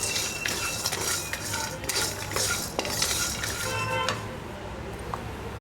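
Metal spoon stirring and scraping in a pan with a soft, continuous sizzle of sesame seeds frying on low flame, clinks scattered throughout.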